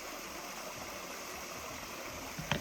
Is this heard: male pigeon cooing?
no